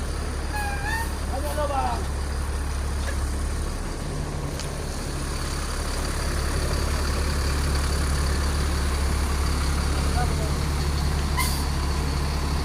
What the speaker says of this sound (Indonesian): Ya beginilah pemutaran dari bus PMAM ya.